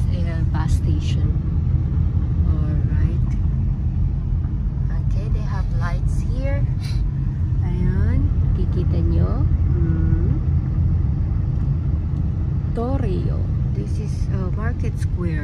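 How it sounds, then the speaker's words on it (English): Winter tires on a car driving through Turkku at night produce a constant low road rumble and hum inside the cabin, heard beneath people talking continuously. "Medyo maingay yung car natin because it's winter tire."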